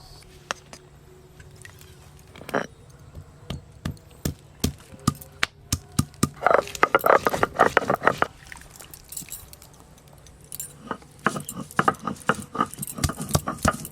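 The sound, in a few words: crushing ginger and green chillies on grinding stone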